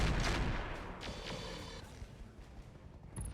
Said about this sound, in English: we should be able to take this guy down with our rotary rifles